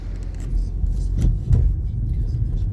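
Cars pulling up at a car wash, a steady low engine rumble with a couple of swelling passes, fairly close, no talk over it.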